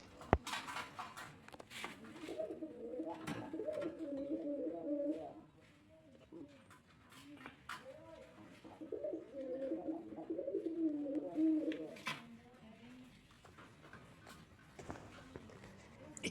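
Two breeding pairs of JS pigeons coo nearby, with soft, throaty rolling calls in two long bouts separated by a pause, plus faint shuffling and small knocks around the nest.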